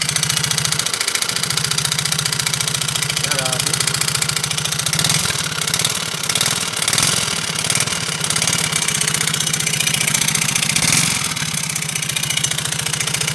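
A limited-edition Mio Soul I 115 motorcycle engine idles steadily at close range, its dried-out, unlubricated bearing adding a rough, knocking rattle over the low continuous drone from start to finish.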